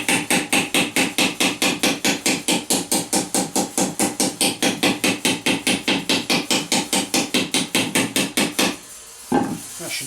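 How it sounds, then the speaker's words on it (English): Round-faced hammer tapping a steel medieval armour plate for an arm harness articulation, a fast steady series of about thirty sharp metallic taps, close and loud, then stopping with a brief handling knock. "So on your round faced hammer, I'm going to lift that out, just give it a gentle touch."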